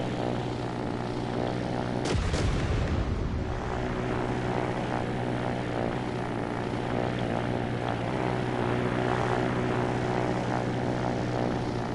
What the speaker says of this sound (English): Even though my props are still at full speed.